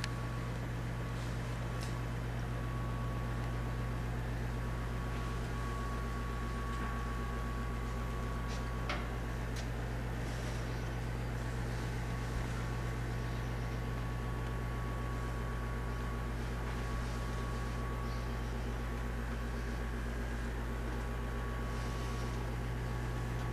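An oven running as pumpkin pies bake on the middle rack, a faint, steady low hum with soft ticks and no voices.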